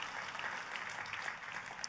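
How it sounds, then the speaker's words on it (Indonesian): Congregation applauding in a church service, a steady, fairly faint wash of clapping that holds evenly throughout without any voices. "Katakan amin dan tepuk tangannya yang paling meriah buat Tuhan kita."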